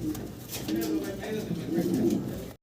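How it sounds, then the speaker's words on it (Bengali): A pair of large yellow Mundian pigeons coo in soft, repeated, throaty rolls close by, while someone talks over them. "এক জোড়া ইয়েলো কালারের মুন্ডিয়ান কবুতর"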